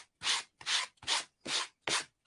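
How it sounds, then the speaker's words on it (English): Five rhythmic strokes of sandpaper rubbing across a wood block to remove excess paper napkin, each pass a clear, close rasping scrape separated by short pauses. "Sand that excess napkin off."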